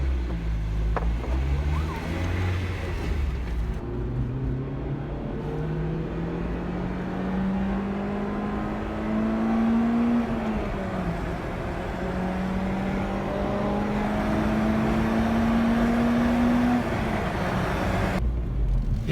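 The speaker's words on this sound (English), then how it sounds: "let's go ahead and go for a ride and see how this car feels." Interior drone of an Acura RSX Type-S on the road, a steady engine tone rising and falling through gear changes over continuous road and tyre noise, fairly loud and close, with no talking.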